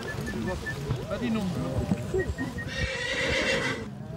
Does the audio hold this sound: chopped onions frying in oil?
no